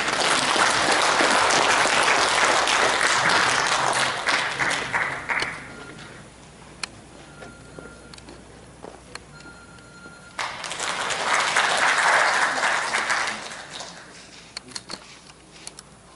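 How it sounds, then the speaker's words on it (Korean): An indoor audience at a fan club launch ceremony in a civil defense education hall in Gumi bursts into sustained applause to welcome a chairman, with two long rounds of dense clapping separated by a quieter stretch of scattered claps. "여러분 큰 박수로 맞으십시오."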